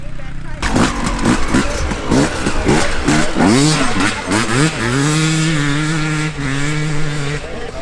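A Yamaha YZ450F four-stroke dirt bike engine is blipped in quick repeated revs that rise and fall. It then climbs into a sustained high-revving whine, loud and close, with voices talking nearby.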